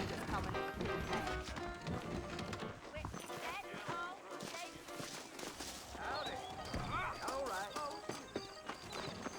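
In the Red Dead Redemption video game, horses' hooves clip-clop over a busy mix of game sound and voices, with a whinny and knocks, fairly faint beneath people talking.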